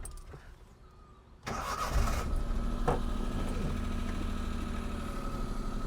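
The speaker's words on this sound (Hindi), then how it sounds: "मैं आपको इसकी इंजन साउंड सुना देता हूँ जो बिल्कुल स्टॉक है" A stock Maruti 800 STD car engine cranks briefly and catches after a quiet moment, then settles into a steady, fairly loud idle heard up close with no talking.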